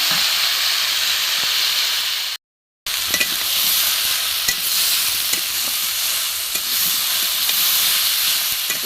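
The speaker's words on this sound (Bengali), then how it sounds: "ভেজে রাখা পটলগুলো দিয়ে দেবো।" Fried pointed gourd goes into a hot pan of vegetarian curry base, producing a loud, continuous sizzle and hiss with stirring scrapes, close by, briefly cut to silence partway through.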